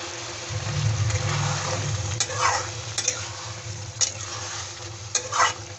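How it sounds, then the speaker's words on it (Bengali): Fried okra stirred into a yogurt-based spiced masala in a pan, with a steady sizzle and several sharp stirring scrapes against the pan, close and fairly loud. "দই দেওয়ার পরে ভালোভাবে ফ্রাই করে নিয়ে এখন আমি দিয়ে দিচ্ছি ভেজে রাখা ভেন্ডি"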